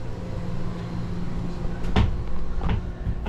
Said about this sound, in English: This one does have an additional door